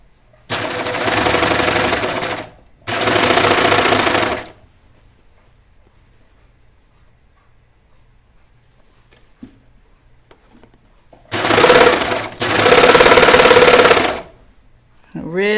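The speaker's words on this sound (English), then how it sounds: "I'm barely getting it flat before I sew it." Domestic sewing machine stitching knit T-shirt fabric in two close, steady bursts at the start and two more near the end, separated by a quiet pause.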